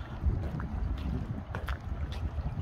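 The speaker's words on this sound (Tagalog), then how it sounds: "Lakas na rin ang hangin." Strong wind gusts buffet the microphone on a boat out on the water during a fishing trip, a steady low rumble with no talking.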